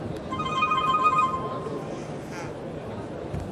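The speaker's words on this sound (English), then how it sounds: "Now, I've got a phone call. This is a terrible time for a phone call." A telephone rings with a steady electronic trill for about a second and a half, fairly faint beneath room noise, then stops.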